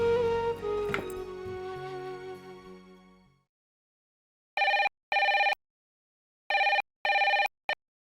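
A telephone rings as a call is placed, heard as two pairs of short electronic ring bursts separated by silence, after a fading musical tone.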